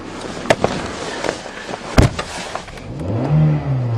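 A Toyota Corolla with diesel in its gas tank drives off with rough road rumble and a few sharp knocks and clunks, and its engine revs up toward the end.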